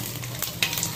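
Whole cumin seeds and bay leaf hit hot oil for a Bengali tempering, giving a steady close sizzle with a brighter crackling burst near the end of the short moment.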